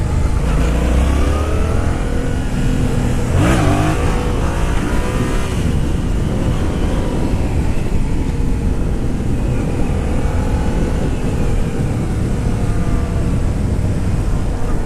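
A 2015 Yamaha FZ-07 motorcycle rides along a road, its engine drone and wind rush forming a loud, steady roar throughout, with a brief rise in pitch partway through.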